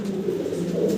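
A breeding pair of Black Tiger fancy pigeons, a young male and female, cooing softly in a steady low continuous murmur, close by and without talk.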